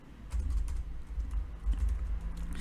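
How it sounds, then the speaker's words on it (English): Steady, close-up clatter of keys being pressed on a computer keyboard as a phone number is typed, quick irregular taps continuing throughout with no voices. "I'm going to be typing my phone number."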